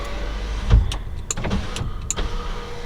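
An electric power window motor on a Porsche 996 Carrera whirs in short bursts, with faint clicks and a low engine hum underneath.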